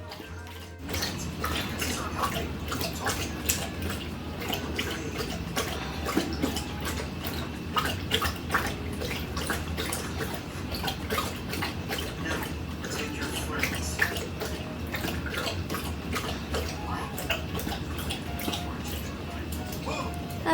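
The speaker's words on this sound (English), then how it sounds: "listen to the sound of my dog drinking water for like 30 minutes while I'm trying to glaze these" A dog laps water from a bowl in a kitchen with a steady, soft, repetitive slurping that goes on throughout, faint and fairly close, with light clinks and room noise around it.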